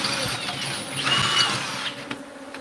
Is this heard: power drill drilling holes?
yes